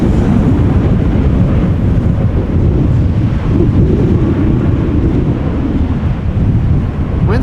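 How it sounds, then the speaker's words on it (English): Strong crosswind gusting across Amsterdam Schiphol Airport during a storm, a steady loud roar of wind buffeting the microphone throughout, with no voices. "there's definitely more crosswind now"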